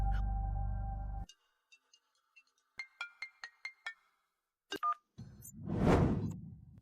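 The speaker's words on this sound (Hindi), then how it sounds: "मैं अभी स्नेहा को फोन कर सकता हूँ।" Phone number being dialed on a handset: a tone, then a short run of evenly spaced keypad beeps, followed by a louder rushing burst near the end, with no voices.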